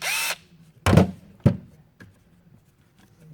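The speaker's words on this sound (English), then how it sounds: "These drills are awesome." A Makita power drill whirs in one short, close burst, followed by a couple of sharp knocks and a faint tap in an otherwise quiet space with no talking.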